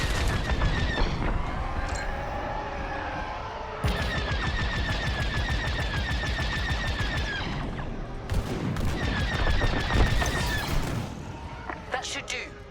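Starfighter cannons in the Star Wars Squadrons video game firing at turrets, steady rapid laser gunfire with tonal whines and booms amid engine roar, with voices talking over it.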